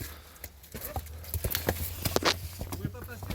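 A donkey's hooves clip-clop along a narrow country path, a steady walking rhythm of light knocks close by, with someone talking over them.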